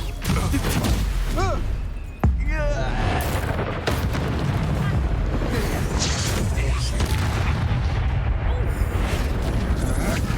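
Spell blasts and explosive magic effects boom through a Hogwarts Legacy duel, with a sharp impact near the two-second mark over a dense, continuous wash of combat noise and spoken character lines.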